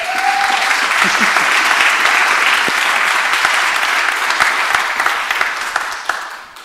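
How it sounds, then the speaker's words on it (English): A conference audience at EuroPython applauds a speaker, with sustained clapping from a sizable room that fades out toward the end. "Give him some applause."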